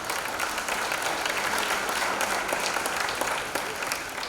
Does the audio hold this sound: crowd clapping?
yes